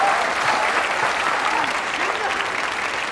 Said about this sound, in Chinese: 掌声雷动。